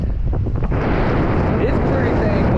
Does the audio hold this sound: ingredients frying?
no